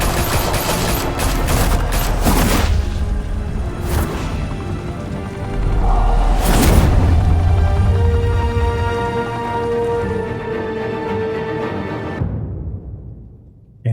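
Gunfire in the video game Batman The Telltale Series: dense overlapping volleys of shots with heavy booming hits over a steady backdrop of musical score, fading out near the end.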